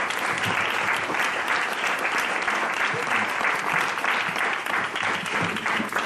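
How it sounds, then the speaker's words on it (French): A theatre audience at a comedy show premiere applauds loudly and steadily, dense clapping sustained throughout with a faint crowd murmur underneath. "Alors on va l'applaudir bien fort."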